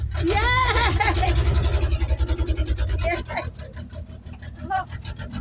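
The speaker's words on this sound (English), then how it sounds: "It just starts off the key." A 1966 Chevy truck fires up off the key, its engine chugging in a fast low rhythmic pulse that then settles into a rougher idle, with excited voices talking over it close by.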